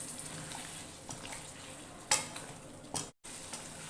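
Aloo gosht masala cooking in a pan with water just added, giving a low steady sizzle with a few sharp stirring clatters and a brief spoon knock near the end, no voices.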